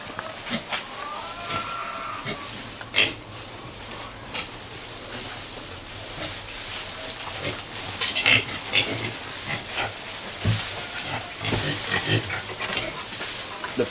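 Pigs feed noisily up close on harvested wild plants, with wet crunching and rooting sounds mixed with scattered low grunts across a steady, busy background.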